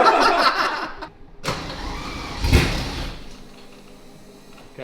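An abandoned Lamborghini Murcielago under rebuild cranks, with a short whirring starter burst, a pause, then a louder catch and a fading mechanical rumble, heard up close.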